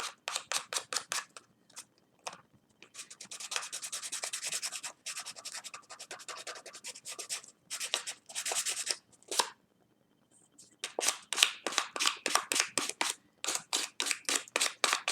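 Web shooter parts being scuffed with sandpaper, giving repeated short rasping strokes in quick bursts, with a few longer continuous rubs in between, close and fairly quiet, with no talking.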